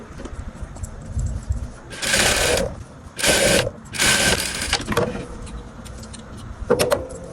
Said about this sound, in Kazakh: Енді осы жерге дейін тігіп аламыз.